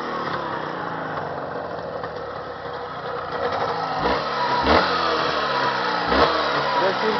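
A Jawa 638 motorcycle engine running on test, a steady mid-pitched idle that rises into a throatier revving burst partway through, close and fairly loud.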